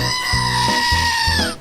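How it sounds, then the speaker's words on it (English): A screaming goat novelty toy lets out one long, loud, shrill goat scream that holds steady and then drops off sharply at the end, close and alone without speech. "The screaming goat."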